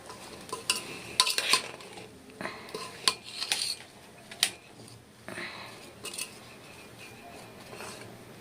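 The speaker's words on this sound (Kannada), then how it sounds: "ಇವಾಗ ಈ ಪುಡಿ ಹಾಕಿರೋದನ್ನ ಚೆನ್ನಾಗಿ ಮಿಕ್ಸ್ ಮಾಡಬೇಕು" A spoon scrapes and clinks against a metal bowl while spice powder of fenugreek, cumin and chilli is stirred into oil for an instant pickle; irregular close taps and scrapes, with no talk.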